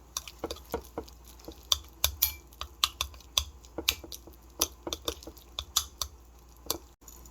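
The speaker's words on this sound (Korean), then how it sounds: "그릭 요거트하고 꿀하고 이렇게 섞어줍니다" Greek yogurt and honey are stirred together in a bowl, giving a steady run of soft, sticky taps and squelches about twice a second, close by and fairly quiet, with no voices.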